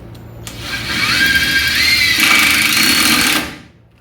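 A power drill drives self-tapping screws into brake line clamps on a 1966 Mustang drag car, one sustained whining motor run of about two and a half seconds, rising in pitch and then strained, close and loud.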